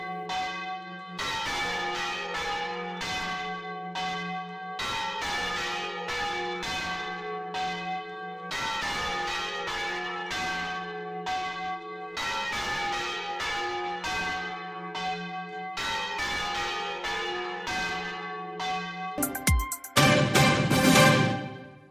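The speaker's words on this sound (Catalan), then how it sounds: "el toc manual de campanes va estar present amb els campaners de l'Alqueria de" Church bells rung by hand by traditional bell ringers in Valencia, a steady, loud, overlapping peal of several bells striking in rhythmic sequences, ending with a burst of clanging.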